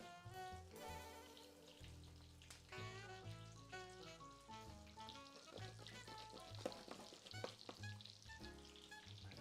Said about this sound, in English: We're frying.